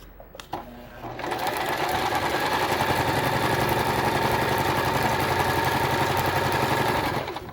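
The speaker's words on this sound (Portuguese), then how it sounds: "E venho costurando agora." A sewing machine sews patchwork fabric, starting after a brief pause with a few clicks and then running in a loud, steady, rapid whirring stitch close up until it stops just before the end, with no talk.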